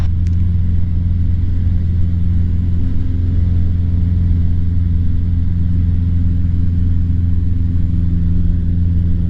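Small airplane engine held at full throttle during simulated engine failure practice drones as a steady, unbroken low hum with a buzzy edge, loud and constant throughout.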